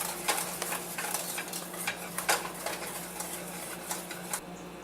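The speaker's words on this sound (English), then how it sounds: "we're just going to whisk that all around until it's well blended" Peach cream pie filling being whisked in a bowl with melted butter, quick rhythmic scraping and clinking of the whisk against the bowl, fairly close and continuous.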